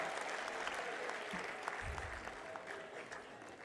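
A conference audience at a UN Water preparatory meeting in Dakar applauds a musician, a steady, fairly distant wash of clapping that holds throughout with a brief low thump partway through.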